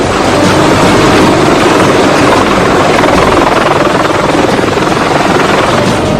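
A military helicopter flies with a howitzer cannon slung beneath it, a loud, steady, close rotor and engine roar that fills the whole stretch without letup.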